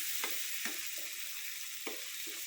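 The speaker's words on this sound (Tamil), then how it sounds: "தக்காளி போட்டுக்குவோம்." Chopped tomatoes fry in a pan for a tamarind curry with sundakkai. A quiet sizzle runs under a handful of scraping spatula strokes, with no voices.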